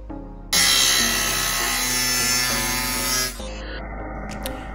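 Power saw cutting a quarter-inch metal plate for the floor of a solar housing box, a loud, harsh, sustained whine lasting about three seconds before dropping to a quieter ringing run-down.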